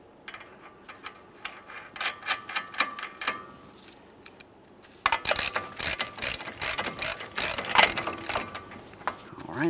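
A ratchet tightens the axle nut on a Ford Fusion CV axle with rapid clicking pawl strokes, lighter and intermittent at first, then louder, denser bursts of close ratcheting.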